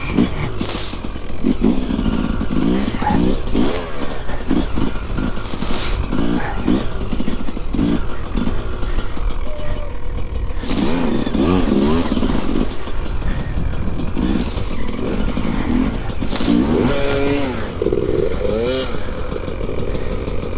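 A Sherco SE 300 trail motorcycle churns through deep snow on a woodland trail, its engine loud and close throughout, revving and labouring in uneven bursts with clattering mechanical noise.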